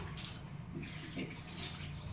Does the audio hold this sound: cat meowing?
no